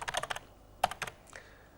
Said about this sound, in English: So I'm going to double click on it and call it Richards.